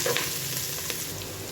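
Masala and onions frying in a pan for chicken biryani, a steady close sizzle with soft stirring scrapes, no voices over it.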